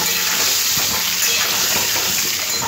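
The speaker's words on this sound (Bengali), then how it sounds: "অল্প একটু হলুদ গুঁড়ো দেবো, দিয়ে আলুগুলো লাল লাল করে ভেজে নেব।" Potatoes fry in hot oil with a little turmeric powder, a loud, steady, close-up sizzling hiss that continues unbroken with no speech.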